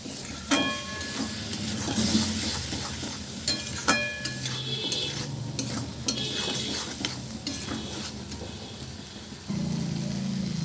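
Tomato paste fries in a pan with pumpkin, stirred briskly: a steady sizzle broken by repeated metallic scrapes and clinks of the spoon, close and clear, with no talk.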